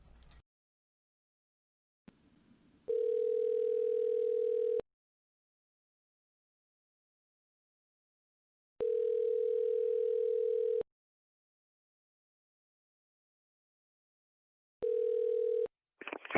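A phone call rings out while waiting for someone to pick up, with three long, steady electronic ringback tones separated by silent gaps, heard clearly through the phone line.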